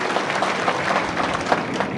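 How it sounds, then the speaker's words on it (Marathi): Audience applause welcoming a speaker at a political rally in Indapur taluka, a steady wash of clapping that holds evenly for about two seconds at moderate loudness with no talk over it. "आपण सर्वांनी टाळ्या वाजून या ठिकाणी स्वागत केलं पाहिजे"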